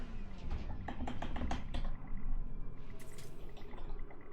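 Keys clatter on a computer keyboard in an irregular run of quick clicks, close and moderately loud, with a brief pause partway through.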